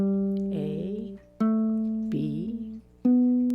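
Single plucked notes on a baritone ukulele ring out one after another, each sustained and slowly decaying, clear and close with no talking.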